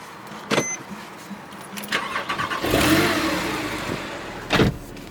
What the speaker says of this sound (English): We'll just start the car up.